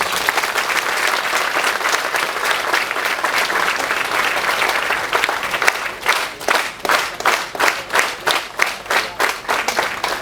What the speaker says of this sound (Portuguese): Queria pedir mais uma forte salva de palmas.